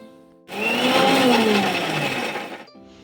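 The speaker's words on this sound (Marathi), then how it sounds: "आपण याला आता जाडसर मिक्सरला काढून घेऊ" Mixer grinder blitzing green chillies, garlic cloves and ginger pieces into a coarse paste, a loud steady whirring whine with a shifting pitch that starts abruptly and runs about two seconds before cutting off.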